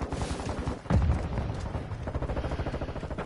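Dense rapid gunfire in the video game Modern Warfare 2, overlapping automatic bursts and booms forming a loud continuous barrage.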